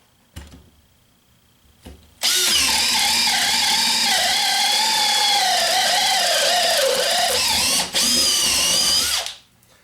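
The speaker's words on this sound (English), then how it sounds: "this drill has so much power it can put a 1 inch auger bit through a post on speed setting 2 and it will not stall out" Makita XPH07 brushless hammer drill on speed setting 2 drives a 1 inch auger bit through a wooden post. It gives a loud, close, high whine that runs unbroken for about seven seconds, dips once briefly, then cuts off.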